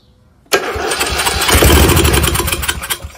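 A Craftsman 42-inch lawn tractor's Briggs 17.5HP engine cranks and catches abruptly, then settles into a loud, close, steady running roar with slight surges.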